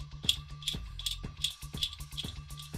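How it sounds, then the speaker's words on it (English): A cast metal nut sliding off a bolt on a Hanayama Cast Nutcase puzzle, heard as close, quiet metallic clicks and rattles in a steady, ratchet-like rhythm. "slide one of these nuts off the end of the opposite side bolt"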